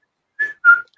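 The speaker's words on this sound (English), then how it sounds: "I'm gonna whistle on Metal Gear Solid." A person whistles two short rising-then-steady notes, loud and close, in a quick pair like a Metal Gear Solid guard-luring whistle, with silence around them.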